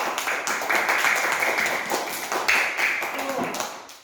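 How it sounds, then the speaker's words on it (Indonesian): A classroom of children claps loudly together for several seconds in a dense, continuous burst of applause, close by and sustained, with voices mixed in. "Tepuk tangan dulu untuk kita semuanya."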